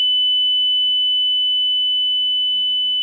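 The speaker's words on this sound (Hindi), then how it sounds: "अब हम बजर दबाते हैं" A continuous steady electronic buzzer tone from a Cook's pole climbing apparatus in a lab setting, loud and unbroken for about three seconds with faint handling noise beneath.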